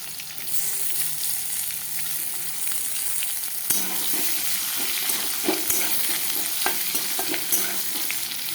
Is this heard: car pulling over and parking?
no